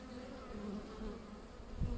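Honeybees drone steadily at an open hive, a close, continuous buzz of many insects that holds level throughout.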